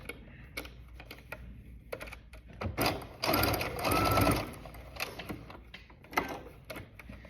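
A sewing machine stitches a zipper onto a small coin purse, running in short whirring bursts with a longer steady run in the middle, close up, with clicks and handling noises between bursts and no speech.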